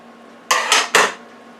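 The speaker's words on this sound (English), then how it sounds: "So I'm gonna take it out and turn it over because it's not ready." Three quick metallic clatters of a tray or pan being handled as barbecue steak is taken out of a Power Air Fryer Oven and turned over, close and sharp, closely spaced within half a second, then quiet.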